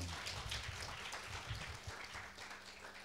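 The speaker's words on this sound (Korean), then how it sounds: "뒤에서 인사를 하면 박수로 한 번만 환영해 주십시오" Steady audience applause fills a forum hall, a dense continuous patter of many hands welcoming a facilitator, moderately distant and holding evenly for a few seconds.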